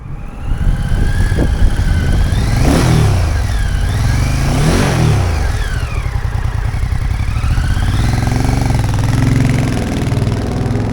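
A 2024 MBP C1002V V-twin cruiser motorcycle engine rumbles loudly and continuously, revving up and down through several gear changes as it rides along close by.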